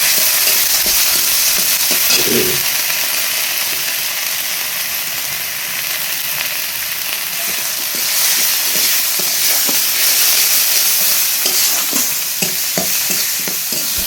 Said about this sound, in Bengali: কষাই করে নেব মশলাটা